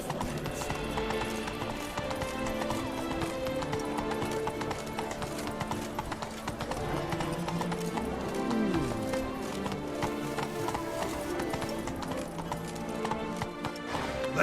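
Roach, the horse in The Witcher 3, gallops in a steady rapid clip-clop of hooves, loud and close, with a brief whinny partway through over a dense game soundscape.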